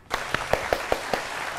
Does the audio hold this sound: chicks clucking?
no